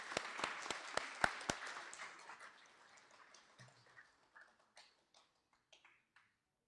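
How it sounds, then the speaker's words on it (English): A short round of clapping from a small group at a school awards ceremony, loud at first and then thinning to a few scattered claps that fade out. "let's give Mason a round of applause"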